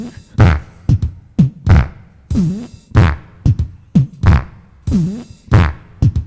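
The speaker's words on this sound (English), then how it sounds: "then you got to do the snare fart or the fart snare." Fart sounds arranged as a snare-drum beat, a steady rhythmic pattern of short, loud, punchy bursts alternating in a repeating groove with no talking.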